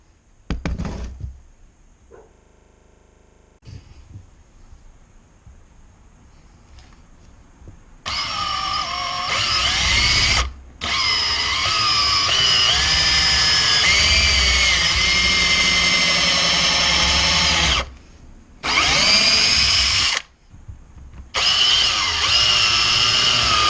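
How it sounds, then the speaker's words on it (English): A power drill bores a pilot hole into a wooden mallet, whirring loudly in long runs broken by a few short pauses after quiet handling noises at the start. "So we'll go ahead and drill our first hole."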